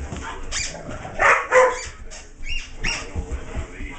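A German Shorthaired Pointer barks and yelps in short bursts while playing with a squeaky toy, the calls fairly close and loud against a busy background.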